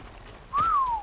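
A single clear whistle command from ARK Survival Ascended rises and then slowly falls in pitch. It is short, moderately loud and heard alone over faint background.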